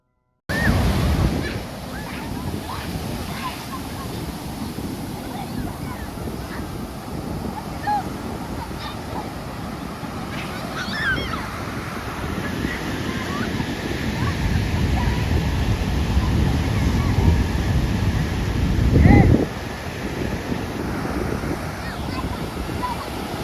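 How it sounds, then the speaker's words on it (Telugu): Strong sea waves crash at Odalarevu beach, a continuous loud surf roar mixed with wind noise on the microphone, swelling toward a louder break near the end, with voices at times under it. "ఈ రోజైతే అలలు ఉధృతి చాలా ఎక్కువగా ఉంది చాలా ఎక్కువ అలలు అయితే వస్తున్నాయి"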